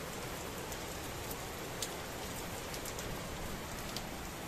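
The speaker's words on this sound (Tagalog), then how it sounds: "Umuulan, it's a blessing." Steady, soft rain falling outside a house in front of a school, a continuous even patter with faint drips, heard alone with no talk.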